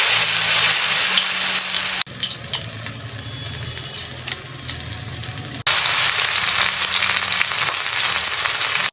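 Coriander leaf fritters dipped in gram flour batter deep-fry in white oil in a kadai, giving a loud, dense crackling sizzle that drops to a softer bubbling midway before surging again.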